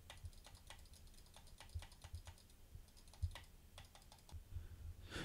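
Computer keyboard typing picked up by a Razer Seiren Elite microphone: quiet, fairly close key clicks in uneven bursts with short pauses and a slightly sharper click near the end, with no talking.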